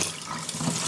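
Cold tap water runs steadily over cooked spaghetti being rinsed in a kitchen sink, a continuous close splashing rush with no voices.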